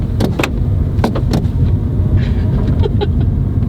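A Honda Civic with an erratic, faulty gas pedal and check engine light on, its engine surging unevenly under acceleration, with sharp intermittent bursts over a steady low rumble from inside the car.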